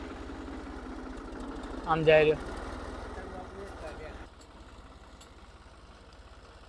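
A tractor engine running in a farm field hums as a low, steady rumble close by, while a voice speaks briefly over it. The engine grows quieter toward the end.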